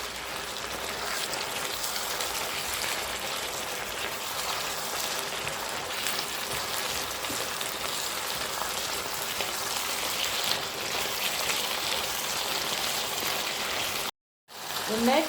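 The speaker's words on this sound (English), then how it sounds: "Fry it together, fry it together." Chopped tomato frying in a pan for Nigerian jollof rice, a dense steady sizzle and crackle like light rain that continues without pause and cuts out abruptly near the end.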